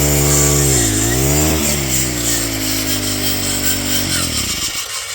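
A Troy-Bilt brush cutter's engine drones loud and close, its pitch dipping and bogging as the blade bites through a thick vine and a small tree, then rising again before easing off.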